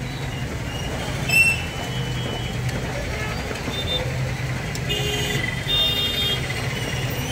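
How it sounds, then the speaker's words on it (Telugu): Busy road in a traffic jam beside a goat market, with a dense rumble of idling and creeping vehicles, scattered horn toots and engine swells nearby, and people talking over the steady traffic din. "మొత్తం ట్రాఫిక్ జామ్."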